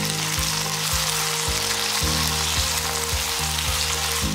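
Chopped tomato sautés in a pan for paneer masala, producing a close, constant sizzle with a low, regularly repeating pulse underneath.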